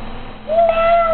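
A voice imitates a cat with a single drawn-out, high meow, close and clear over a faint background hum.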